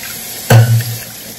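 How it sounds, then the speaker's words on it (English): Noodles rinsed in a colander under a fully open kitchen tap, a sudden close gush of running water that splashes for about half a second and then tapers off. "Quick rinse under full tap water."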